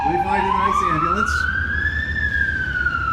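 A wailing ambulance siren sweeps slowly upward and back down, loud and fairly close over a low traffic rumble, with a brief voice early on.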